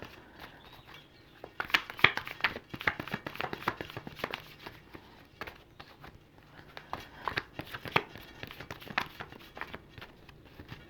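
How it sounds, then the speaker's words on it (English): Celtic Tarot cards are shuffled by hand in a series of quick, soft riffling and tapping bursts, close up and fairly quiet, without talk. "These cards are a little bit easier to shuffle."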